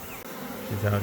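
A honey bee swarm hums and buzzes during a large net capture, a dense, continuous drone close by that swells slightly louder toward the end.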